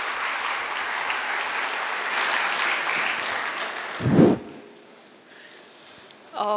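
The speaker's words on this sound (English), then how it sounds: "Can I have a round of applause from all the marketing majors in the room?" Audience at a college induction program gives a round of applause, dense clapping for about four seconds that swells briefly and then fades, followed by a short burst of clapping at the end.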